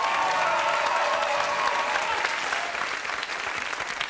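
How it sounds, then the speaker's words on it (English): Studio audience at a quiz show giving a round of applause, dense, steady clapping that tapers slightly toward the end. "ladies and gentlemen, a round of applause"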